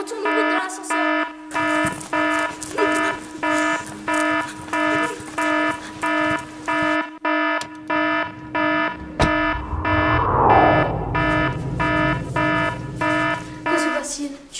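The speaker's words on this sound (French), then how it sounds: "Qu'est-ce que c'est que cette alarme?" Alarm in an animated story, loud pulsing electronic tones repeating at a steady rhythm, with a constant hum underneath and a voice speaking over the later part.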